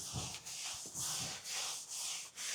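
A microfiber cloth rubs across the sanded surface of a cedar strip canoe in repeated soft, close swishing strokes, roughly one per half second, with no talking.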